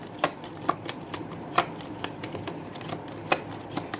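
Tarot cards are shuffled by hand in a series of crisp riffling bursts, spaced irregularly about half a second to a second apart, close and clear with no talking.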